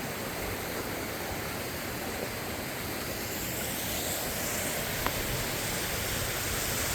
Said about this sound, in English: I'm going to pan back around to the waterfall.